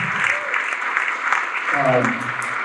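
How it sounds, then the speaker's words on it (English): Audience applause at a high school winter band concert, a steady broad wash of clapping with a voice speaking briefly over it near the end. "Let's give a big round of applause."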